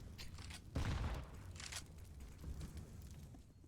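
Gunfire with a heavy boom in a Counter-Strike match, sniper rifle shots and a grenade going off in mid: one loud burst near the start, then softer scattered reports at a moderate distance.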